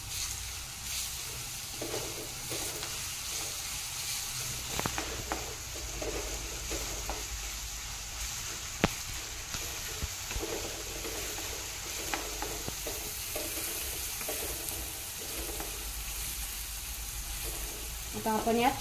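Onion sautéing in a pan with green chilli and garlic added, a continuous sizzle with occasional stirring scrapes and clicks while someone talks over it.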